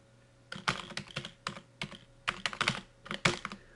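Code being typed on a computer keyboard: a close, steady run of crisp key clicks in short bursts with brief pauses, heard alone without talk.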